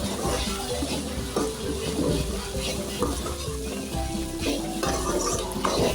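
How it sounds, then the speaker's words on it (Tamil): Cooked okra stir-fry is stirred in a hot pan, a dense continuous sizzle with scraping spatula strokes and light clatter, close and steady, with no speech. "நல்லா கலந்து விட்டுக்கலாம்."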